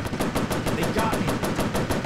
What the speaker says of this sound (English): Machine gun's overheated.